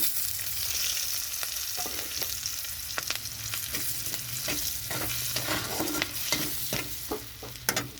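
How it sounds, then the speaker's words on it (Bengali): Garlic, black cumin and spices frying in oil for a fish curry with tomato, a steady sizzle broken by repeated scraping and stirring clinks of a spatula against the pan, with no voices. "এখানে রসুনটা ভাজা হয়ে গেছে তো এখানে আমি সব মশলা দিয়ে দিচ্ছি"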